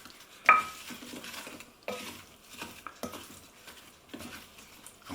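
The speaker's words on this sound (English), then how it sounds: "I'm going to give that a good stir. Just making sure that all of the carrots are coated." Carrots and onion being stirred in a pan with garlic and spice mix, a few scraping strokes with a sharp clatter at the start and softer sizzling stirs roughly every second, nearby and moderately quiet.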